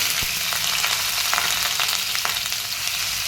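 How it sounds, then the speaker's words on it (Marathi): Grated onion hits hot oil with popped mustard seeds and cumin, a dense, close frying sizzle with small crackles and a clear stirring tap, and no voices. "आता इथं मी एक मोठा कांदा किसून घेतला तो कांदा घालायचा"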